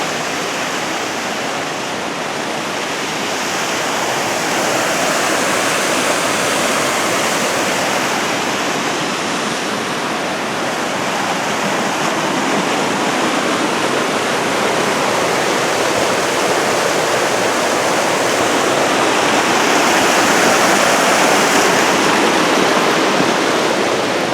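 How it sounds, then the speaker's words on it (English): Water rushes steadily over rocks in a small creek at Mt. Rainier National Park, a continuous broad hiss that stays loud and unbroken throughout. "You can probably hear the water from this little creek."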